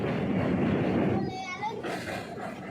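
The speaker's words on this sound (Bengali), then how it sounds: "লাস্ট পর্যন্ত আমরা ট্রেনে উঠে পড়েছি।" Passenger train riding toward Khirai in Bengal, heard from inside the carriage as a steady, loud rumbling roar that softens slightly partway through, with faint background voices mixed in.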